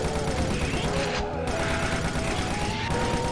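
Dense, rapid gunfire and explosive blasts from Doom II combat against Mancubus enemies, loud and continuous across the whole stretch, with a brief dip in the middle.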